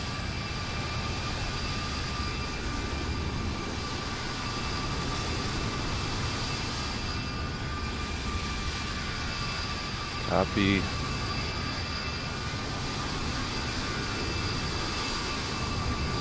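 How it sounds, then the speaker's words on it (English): Airliner jet engines roar on takeoff in Microsoft Flight Simulator 2020, a steady broadband rumble heard across a busy airfield, loud and continuous, with a brief radio voice cutting in partway through. "Why does it sound like he's blasting his engines right next to us?"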